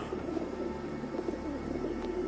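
Pigeons coo in a steady, continuous murmur as grain is scattered for them, a soft layered cooing that runs through a scene in a Hindi-dubbed action thriller film.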